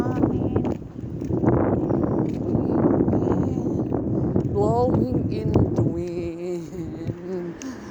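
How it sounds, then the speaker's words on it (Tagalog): Strong wind buffets the microphone in a steady roar, with a person talking over it and the gusts easing toward the end. "ang lakas ng hangin"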